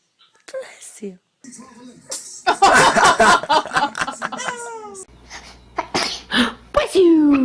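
Babies sneeze several times in a row, each short burst close and loud, with adults talking and laughing softly between the sneezes.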